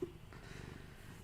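A cat purrs softly while being held, a faint, continuous low rumble lasting just over a second, heard close up.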